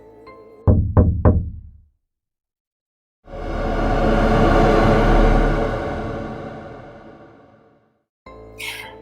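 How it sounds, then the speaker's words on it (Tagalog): Three quick, sharp knocks on a toilet cubicle door ring out close and echoing, followed by silence and then a long swelling rush of sound. "Tapos, biglang may kumatok sa pinto ng cubicle ko"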